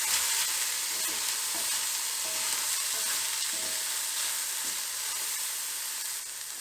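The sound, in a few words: tomatoes cooking and squished in a pan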